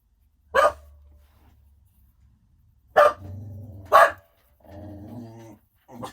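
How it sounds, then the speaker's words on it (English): A pet dog barks out in a garden: three sharp, loud barks spaced across several seconds, each followed by low growling rumbles, with quiet gaps between. "Barking at thin air in the garden."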